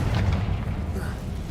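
A fire spell blast bursts in the Hogwarts Legacy video game, a short, loud, booming explosion with a dense low rumble that fills the whole moment.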